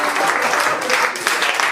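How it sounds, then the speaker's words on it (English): An audience at a cabaret magic show gives brief, steady applause, a dense wash of clapping lasting under two seconds with talk faintly underneath. "Please hold your applause."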